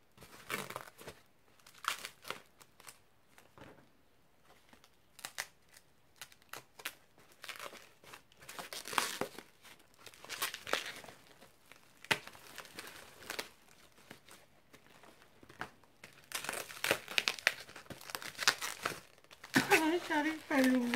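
Recycled scrap paper used as parcel packing crinkles and tears in bursts of crumpling as the package is unwrapped, close by, with someone talking in between.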